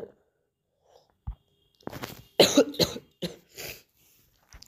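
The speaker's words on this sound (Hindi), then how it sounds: "मेरे खांसी हो रही है" A person coughs in a few harsh, close bursts separated by short silences, with a quieter throat sound at the start.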